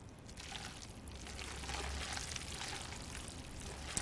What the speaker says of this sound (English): I want to pour some on once it's in the bowl.